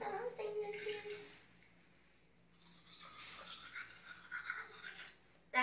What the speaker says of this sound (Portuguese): E agora eu vou escovar os dentes.